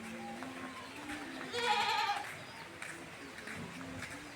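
Goats bleat near a village home as light rain begins, one clear wavering bleat in the middle with fainter calls around it and soft ambient noise.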